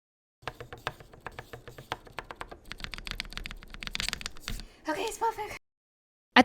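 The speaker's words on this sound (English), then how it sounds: "I thought that maybe the keyboard sounded the same because the foam was absorbing too much of the sound." Mechanical keyboard after stabilizer and foam mods, close rapid clacky typing in quick bursts with a denser run of keystrokes before a few short louder clacks.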